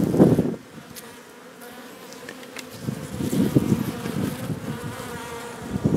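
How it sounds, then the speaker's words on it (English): Honey bees buzzing as a swarm is removed from cinder blocks, a steady droning hum that swells and fades, near and fairly loud with no talk. "Got a little cluster of bees down here."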